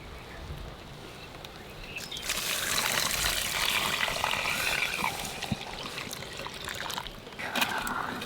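Reserved cooking water is poured back into a pot of boiling masoor dal, a steady close pour and splash that swells in the middle and trails off into a gentle trickle, with no one speaking.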